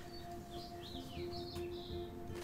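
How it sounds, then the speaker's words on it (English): Bird chirps in the video game Life is Strange, a few short, thin calls over a steady low ambient hum, no talking. "Bird."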